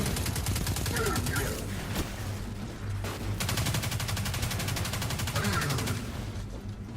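Rapid submachine gun fire in the Destiny 2 video game, dense continuous bursts of shots filling the whole stretch with a steady loud rattle and brief gaps.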